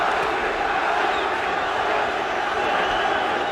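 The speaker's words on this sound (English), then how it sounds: "Prince Nseem fans in the crowd chanting Nazi, Nazi, Nazi" A boxing arena crowd roars and chants a fighter's name, a dense, continuous wall of voices that stays loud and steady throughout.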